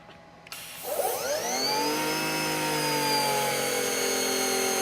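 An EGO 56V battery-powered pressure washer spins up into turbo mode: a rising motor whine climbs quickly, then settles into a loud, steady high-pitched drone that stays close and constant.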